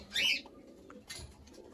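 A single soft pigeon coo close by, brief and quiet, followed by faint rustling in a calm setting.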